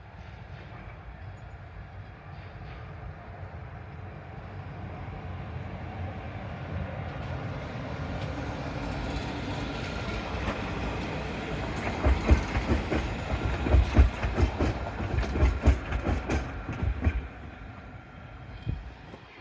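A tram departs Highbury Vale stop, a steady low rumble building into rhythmic clicking and clattering over rail joints, loudest midway as it passes close, then easing off as it pulls away.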